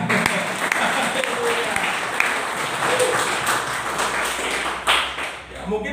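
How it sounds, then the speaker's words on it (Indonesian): Dense, steady applause from a church congregation fills the room, continuous clapping holding at an even level throughout. "Ada tepuk tangan buat Tuhan."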